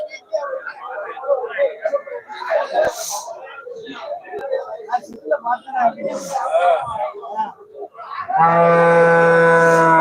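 At a cattle market in Melapalayam, a cow lets out a long, loud, close moo near the end, following a stretch of busy chatter and crowd talk.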